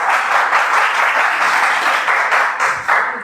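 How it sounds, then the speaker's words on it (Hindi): Students in a classroom clap together, a loud, dense round of applause that holds steadily for a few seconds before thinning out near the end. "बजाओ ताली, कोई दिक्कत नहीं"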